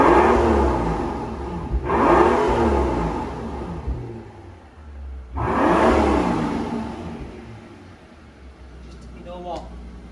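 A Mercedes S65 AMG 6.0 V12 with quad exhaust pipes revs twice in strong, rising roars that fall back to a deep idle, close and loud, with a voice briefly heard near the end.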